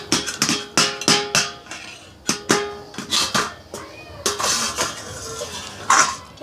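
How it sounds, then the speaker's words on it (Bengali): A metal lid comes off a stovetop pot used for baking a vanilla sponge cake without an oven, giving a run of sharp clanks and rattles of metal on metal, close and fairly loud, with a voice briefly heard. "তো আমি এখন ঢাকনাটা খুলে নিচ্ছি।"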